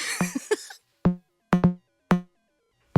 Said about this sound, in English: A thing called a DFAM, which sounds like this.